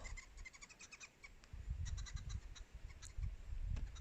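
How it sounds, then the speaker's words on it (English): Impalas snorting in the African bush near a pride of more than twenty lions: repeated short, gruff low bursts at a distance, with thin high bird calls scattered above them. "There are some impalas snorting that side where they're looking."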